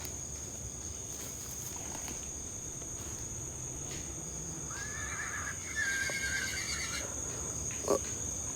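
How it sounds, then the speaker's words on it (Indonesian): A horse whinnies faintly in the distance on a mountain at night near Purwokerto, over a steady chorus of crickets and insects, with a brief knock near the end. "Dan gua mendengar ada suara kuda juga."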